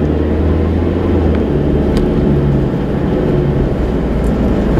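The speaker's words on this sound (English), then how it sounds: "Driving through Beverly Hills." A car cruising through Beverly Hills along Coldwater Canyon Drive, heard from inside as a continuous loud engine and tire rumble with steady road noise and no talking.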